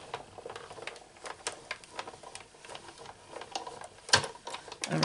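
An inked embossing folder is run through an embossing machine, giving a quiet run of mechanical clicks and ticks with one sharper snap near the end.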